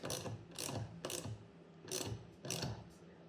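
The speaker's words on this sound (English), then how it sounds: "So what we're going to do now is tighten these bolts down." Wrench ratcheting on the top and bottom nuts of a Bushtec shock absorber, heard as five quick bursts of clicking at an even rhythm, close and moderately loud, with no talk.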